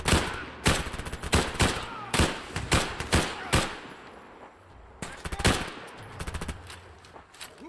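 Sharp shots from a 5mm rifle in Fallout: Wasteland Reborn ring out in quick repeated bursts, a dozen or more loud cracks with short gaps and a brief pause midway.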